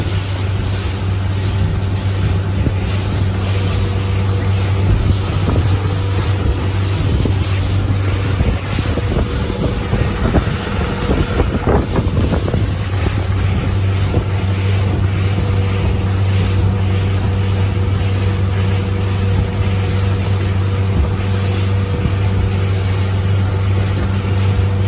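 A Carolina Skiff 23LS motorboat cruises on Lake Worth at about 2750 rpm and 13 mph, its engine a loud, steady drone with wind buffeting the microphone and water rushing along the hull throughout.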